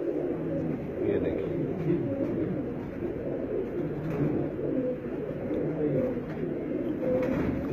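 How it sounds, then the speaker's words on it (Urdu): Champion heat-tolerant pigeons coo steadily on a rooftop loft, a dense overlapping low murmur of many birds close by that runs through the whole stretch without pause. "گرمی برداشت کرنے والے کبوتر، ملائم کبوتر"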